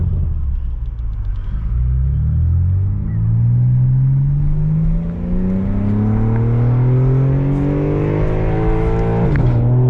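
A loud BMW G82 M4 engine revs up steadily, its throaty near-straight-pipe exhaust rising in pitch over several seconds before a sharp gear change near the end.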